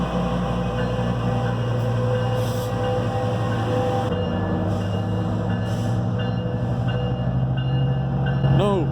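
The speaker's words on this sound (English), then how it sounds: "We were greeted in Pomona North by the arrival of the westbound San Bernardino line just as we pulled in." A westbound Metrolink San Bernardino line train arriving at Pomona North station, a loud, steady rumble of rolling railcars with a low drone, brief high squeals near the end, and faint voices underneath.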